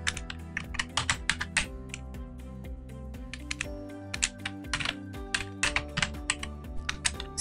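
Close typing on a computer keyboard while entering text, with quick irregular bursts of crisp key clicks and short pauses over a soft sustained music background.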